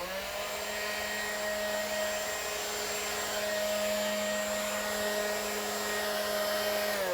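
A leaf blower pushes leaves off gravel and stepping stones, a continuous steady roar with a constant motor whine, moderately loud and unchanging throughout, with no talking over it.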